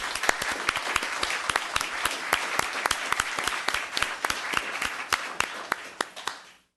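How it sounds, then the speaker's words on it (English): A town council meeting crowd applauds new Student Commission members as they stand, with dense, steady clapping from many hands close by that tapers off at the end. "Let's give them a round of applause."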